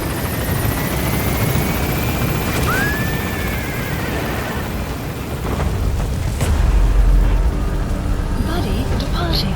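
A helicopter in Metal Gear Solid V lifts off and departs with a loud, steady rotor drone, and a deep heavy boom swells late on. Voices speak over it.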